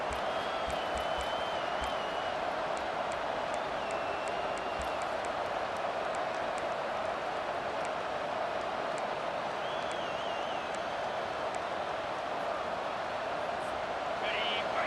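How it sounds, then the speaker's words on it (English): A stadium crowd in the College Football 25 video game, at a Texas vs A&M matchup, roars as a steady, dense wash of cheering throughout, sitting beneath continuous play-by-play commentary. "this crowd is coming to help the defense"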